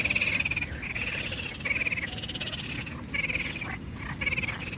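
A chorus of frogs croaks continuously in pulsing, rhythmic bursts, loud and close, with many calls overlapping, at a campsite near the coast between Sakarya and İzmit, Turkey.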